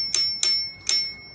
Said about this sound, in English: and a bicycle bell.